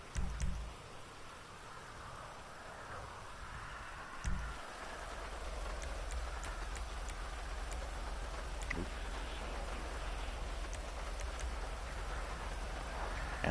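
Steady rain in GTA Online during a stunt race, a continuous wash of falling water and surface patter filling the background, fairly faint, with low rumbling bursts near the start.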